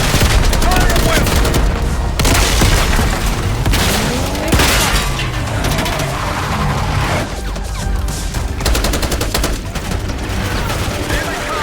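Gunfire in a realistic war video game set at Saddam Hussein's palace: dense, loud fusillades of rifle and machine-gun bursts with booms and crashes, continuous and close throughout.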